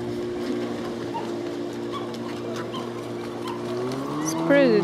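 A steady low hum runs underneath at a lake until a short, nasal duck call breaks out near the end.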